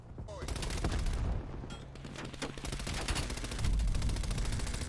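Rapid automatic gunfire in Black Ops Cold War, likely from an MP5, with dense bursts of shots running almost continuously through the clip, loud and close, alongside a brief stretch of mechanical reloading and handling clicks.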